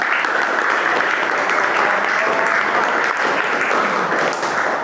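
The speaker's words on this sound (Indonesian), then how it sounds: "Ya, ya, beri tepukan." A classroom of students in a teacher-training session at IAIN Ambon claps together, a dense, steady round of applause held loudly throughout with no speech over it.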